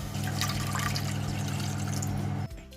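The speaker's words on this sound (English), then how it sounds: "Now we are pouring 400 ml water." Water, 400 ml, poured into a container for making jelly, a steady close splashing stream that stops abruptly near the end.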